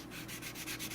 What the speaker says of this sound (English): I'm taking the fine sandpaper